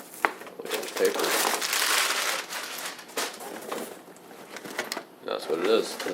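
Packing paper crinkling and rustling during the unboxing of addressable smoke detectors, close and loud in uneven bursts, with someone talking between the crumples.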